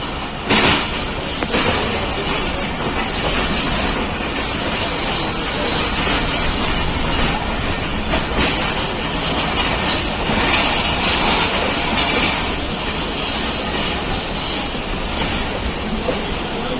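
Subak Kharam passenger train running from Lahore to Rawalpindi, a steady close rumble of carriages on the rails with broad, continuous noise and a few brief knocks early on, no talking.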